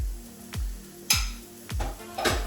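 Oyster mushrooms and spices are stirred in a pan, producing four distinct scraping knocks of a utensil against the metal over a soft background sizzle, close and alone.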